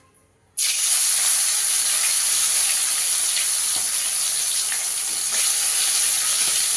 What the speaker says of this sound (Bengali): মাছগুলোকে একটু লাল করে ভেজে নেব